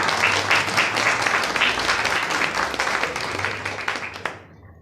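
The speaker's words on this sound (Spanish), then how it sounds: "Recibámoslos con fuertes aplausos" Warm audience applause greeting guests at a book presentation during a writers' gathering, steady full clapping that tapers off near the end.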